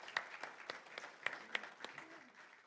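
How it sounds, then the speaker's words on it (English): Light, scattered clapping from a small church congregation at a Sunday service, a handful of distinct claps standing out from a soft, uneven patter, fairly quiet and distant. "give yourselves a round of applause"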